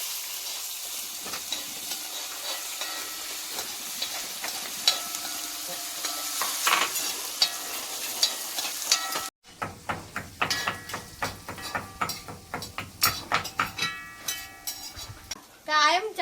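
Crushed green chili, shallots and garlic are stirred in a sizzling pan for a Kerala-style tomato rasam, with steady frying hiss and then a run of clattering spoon scrapes and knocks near the mic; a voice is briefly heard.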